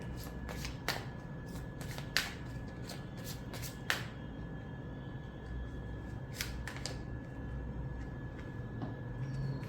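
Tarot cards are shuffled and laid out one at a time on a surface, giving soft, scattered riffles and crisp individual snaps over a low, steady background hum, with no voices.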